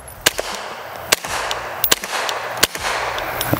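Suppressed pistol shots fired outdoors, several sharp, fairly loud cracks spaced unevenly about a second apart, each followed by a short rumbling tail.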